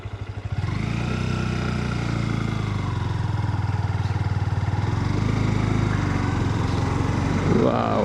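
A Honda NX 200 motorcycle engine catches and then runs steadily and loud up close, its note rising slightly as the bike pulls away, with no talk over it.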